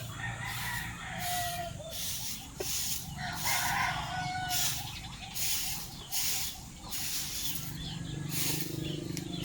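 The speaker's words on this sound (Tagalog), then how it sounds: "Andun yung ibang manok pala oh." Backyard chickens in a coop cluck and a rooster crows repeatedly, the calls coming in bursts at moderate distance while people talk quietly nearby.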